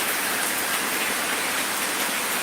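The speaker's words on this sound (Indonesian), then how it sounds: "Hujannya tidak kunjung-kunjung deras. Deras sekali, bro." Heavy rain has poured steadily for hours in Sicini village, Gowa, and comes through as a dense, constant hiss of downpour on surfaces, even and unbroken, with no voices.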